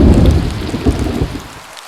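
Heavy rain pours with deep thunder rumbling through it in a storm sound effect, a dense roar that stays loud and then fades away at the end.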